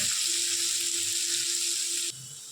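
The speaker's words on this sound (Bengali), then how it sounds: "উচ্ছে ভাজা হয়ে গিয়েছে" Slices of bitter gourd fry in hot oil, giving a steady, close sizzling hiss with a faint low hum underneath that cuts off abruptly near the end.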